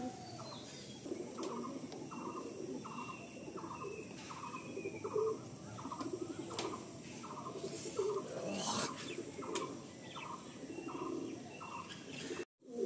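In a pigeon loft at Barasat, a bird gives a string of evenly spaced short calls in a steady rhythm, soft and somewhat distant, over a quiet bed of background noise, ending in a sudden knock.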